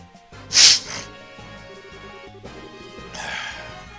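A single sharp sneeze bursts out near the start, followed by quieter rustling and low background sounds; no one speaks.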